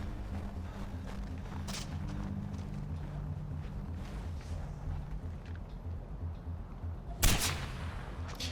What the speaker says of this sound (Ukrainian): Давай я знову буду зі снайперки стрілятися.